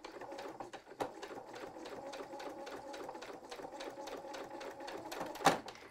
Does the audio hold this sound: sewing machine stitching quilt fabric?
yes